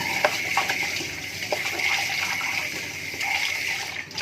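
Running tap water splashes steadily over milkfish being washed in a kitchen sink, close and continuous, with faint handling knocks and no talking.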